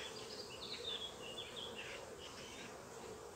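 Steady honeybee buzzing close by at a hive, with a few higher whining tones drifting in and out over a constant hum; no voices.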